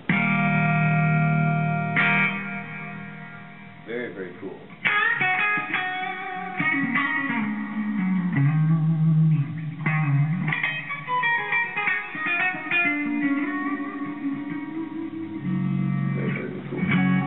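Distorted electric guitar chords and melodic lines ring out through a TC Electronic reverb pedal on its hall setting, notes sustaining and blurring into a wide, echoing wash.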